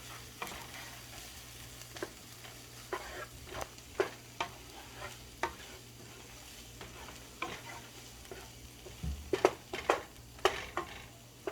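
Butter melting in a pan on the stove, a low steady sizzle with scattered clicks and scrapes of stirring throughout, close and fairly quiet.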